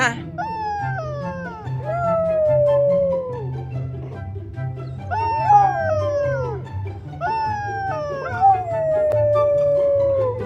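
A dog howls and whines in drawn-out, wavering cries that rise and fall, repeated in three long bouts close to the listener, with a low hum in the background.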